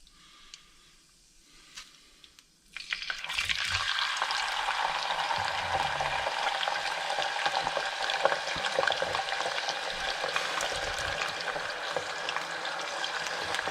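Potato pieces for a Spanish tortilla hit hot oil in a pan, giving a sudden burst of loud sizzling that keeps going as a dense, even fry, with no voices.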